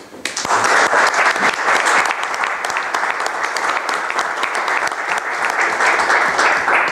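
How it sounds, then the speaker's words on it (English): An audience at a lecture of the new Austrian school bursts into a sustained round of dense, loud applause that holds steady throughout. "So let's give Ludwig and Willie a round of applause for organizing this."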